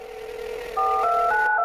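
A short run of telephone keypad dialing tones, several clear stepped beeps in quick succession over a steady tone, used as a call effect on a weather-themed podcast.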